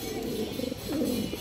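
A pair of red Lal Chulli pigeons, an old pure-colour breed, coo close by in soft low rolling calls, two or three phrases in quick succession.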